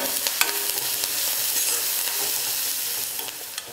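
Finely chopped onions sauté in a pan with a bright, close sizzle, punctuated by a few sharp spoon clacks as they are stirred.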